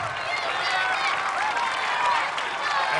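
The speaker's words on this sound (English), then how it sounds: "the crowd getting the Tyler chants going" An American Ninja Warrior arena crowd roars steadily in support of competitor Tyler Smith, a dense wash of cheering, clapping and chanting voices that stays loud and unbroken throughout.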